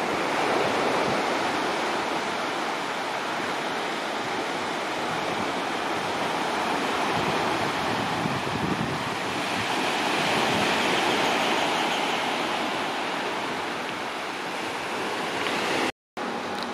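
Waves wash continuously onto a beach on Koh Samet, Thailand, a steady broadband surf roar with gentle swells in intensity, close and unbroken until a brief dropout near the end.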